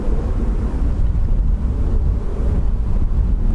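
Gusty wind buffets a microphone outdoors at Dublin Airport on a blustery day, a loud continuous low rumble with no talk.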